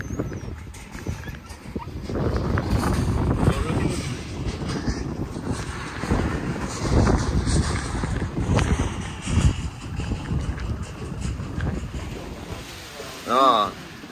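Wind and rain on a farm, the gusts roaring and buffeting against a steady wash of rain for the whole stretch, loud and close, with a brief tonal chirp near the end.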